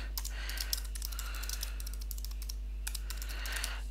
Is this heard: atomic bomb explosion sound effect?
no